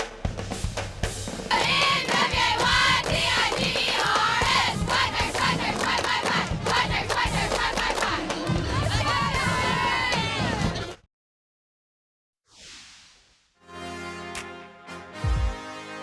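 A high school cheerleading squad shouts and cheers in unison, loud and energetic with rhythmic chanting and crowd noise, then cuts off abruptly, followed by a brief whoosh and a tonal musical stinger.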